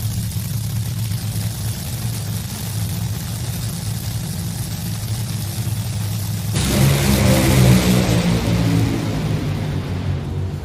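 A drag racing car at the Texas FallNationals qualifying rounds rumbles steadily, then surges into a loud, roaring run partway through that builds and holds before easing slightly at the end.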